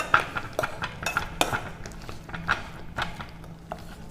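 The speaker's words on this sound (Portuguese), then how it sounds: "você pode pegar uma espumadeira e utilizá-la como amassador de batata" A metal skimmer spoon mashes cooked potatoes in a pot, making soft squelches and repeated light metallic clinks against the pan at a steady, close pace.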